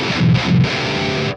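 A burst of heavily distorted electric guitar through the Synergy amp module's high-gain channel, loud and saturated, with two strummed chord hits ringing out alone.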